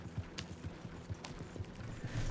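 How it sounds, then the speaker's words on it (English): Horse hooves in a video game, a rhythmic clip-clop of galloping steps approaching, moderately close and clear with no talking. "I remember to whistle my horse to follow me."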